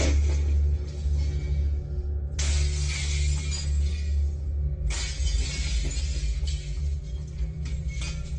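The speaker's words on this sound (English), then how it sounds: "The man was able to use a piece of firewood to shatter one of the windows." Window glass smashed with a piece of firewood during a home break-in: two loud, sharp shattering crashes about two and a half seconds apart, each spraying bright fragments over a steady low rumble.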